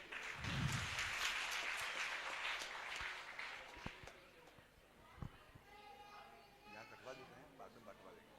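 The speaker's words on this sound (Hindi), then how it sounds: "तो एक बार सभी जने ताली बजाएंगे।" Audience clapping at a Bhagwat Katha celebration during a cake-cutting after Krishna's birth is enacted, a dense wash of applause in the first few seconds that thins out, followed by scattered noise and voices.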